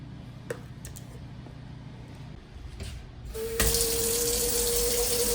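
Hot tap water gushing from a faucet into a sink, starting abruptly after a few seconds of quiet room noise and a few small clinks, then running loud and steady with a rising filling tone.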